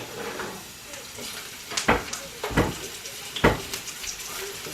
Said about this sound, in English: It is hot, because I hear it sizzling